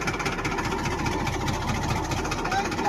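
A tractor engine idles steadily at a rice paddy field in Haryana, a loud continuous low rumble with a rough knocking texture throughout.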